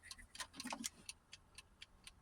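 The mechanical minute timer on a small 1-quart air fryer ticks faintly and steadily at close range, with no other sounds around it.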